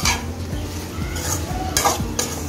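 A spoon stirs a simmering pot of vegetable gravy with repeated scraping strokes over a steady bubbling sizzle, close and continuous.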